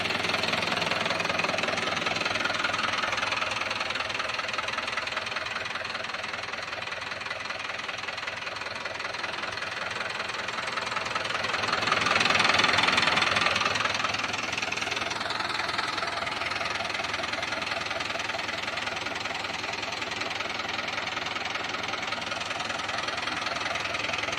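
A Swaraj 841 XM tractor's diesel engine idles steadily and loudly throughout, with a low rumbling knock that swells briefly in the middle before settling back.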